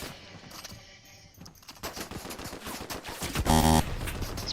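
Fortnite gunfire, a rapid fusillade of shots building in density and loudness across the clip, with bright metallic game effects near the end.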